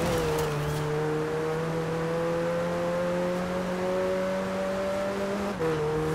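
McLaren 720S Spider in Forza Horizon 4, its engine holding a loud, steady high-pitched drone with a brief dip near the end, alone and close.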